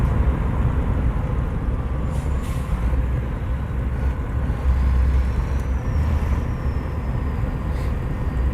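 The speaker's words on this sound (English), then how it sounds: "I think I might turn the truck sounds down a little bit." Custom Freightliner XL Classic in a truck driving game, its engine droning as a steady, loud low rumble with faint air brake hisses and a thin whine above, no talk.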